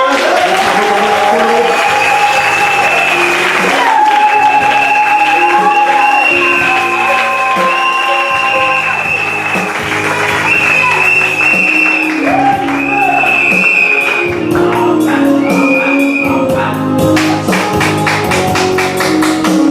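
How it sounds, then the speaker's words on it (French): A church congregation applauds for the Lord during a worship service, loud continuous clapping mixed with shouts, whoops and sustained singing or music throughout. "Applaudissez pour le Seigneur."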